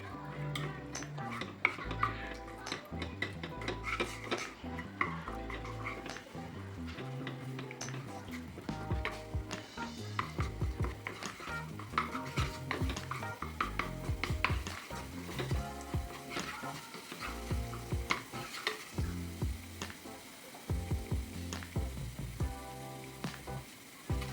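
Pepper paste cooks in olive oil in a pan while a spoon stirs and scrapes it, giving rapid, repeated metallic clinks over a faint sizzle, with a voice heard now and then.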